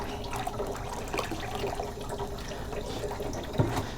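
Water flows steadily through a portable water filter, a continuous close splashing and gurgling rush with a small splash near the end and no talk.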